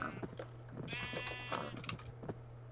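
Sheep bleat in a Minecraft world, several short wavering bleats overlapping one another over a steady low hum and scattered clicks, with no talk.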